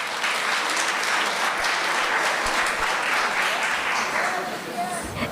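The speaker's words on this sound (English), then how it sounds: "Put your hands together, give them a lusty round of applause." An audience applauds a devotional kirtan group introduced as contestants at a competition, a steady, dense round of clapping lasting the whole stretch with some chatter mixed in.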